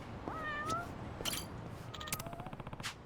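A cat meows in the video game Yakuza: Like a Dragon, with a few separate, fairly close meows spread through a short stretch, set against a busy game ambience of clicks and background noise.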